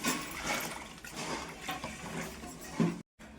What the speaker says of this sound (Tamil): நல்லா தண்ணி ஊற்றி மீனை கழுவிடலாம்